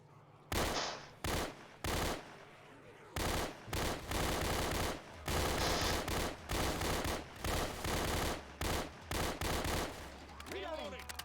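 Rapid, loud bursts of video game gunfire come in repeated clusters of shots separated by short pauses, as a Magnum and other weapons are fired.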